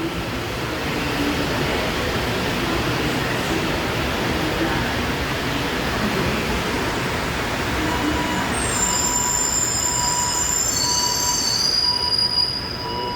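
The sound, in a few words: Montreal metro train, out of service, wheels squealing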